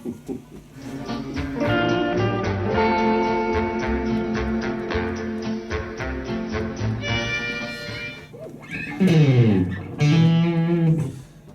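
Distorted electric guitar plays a chugging riff with bends and sustained notes, loud and close, ending in a few sliding squeals.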